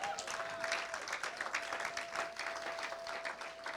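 A church congregation at a Montreal worship service applauds steadily, a dense, even wash of clapping that holds for a few seconds. A faint sustained tone sits underneath and no clear speech rises above it.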